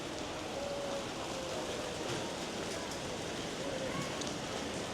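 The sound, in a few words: rain falling in Singapore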